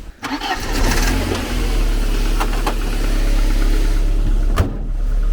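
A repaired car engine, running without smoke or knocking, turns over and settles into a steady, loud, low idle with a slight rise in revs, heard close up and alone.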